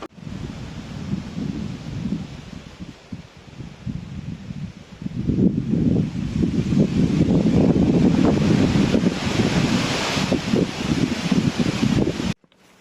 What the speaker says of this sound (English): Now I'd say it might be a bit windy up here